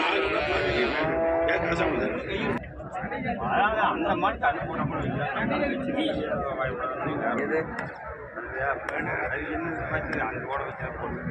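Cattle moo repeatedly at the Karungalpalayam cattle market in Erode, loud and close amid constant crowd chatter and people talking nearby, with the lowing calls overlapping through the whole stretch.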